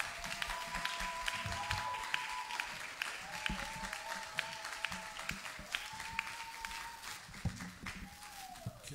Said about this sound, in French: lorsqu'il s'avance, l'église nous l'accueillons avec des acclamations au nom de Jésus